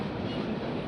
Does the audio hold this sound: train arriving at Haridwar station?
yes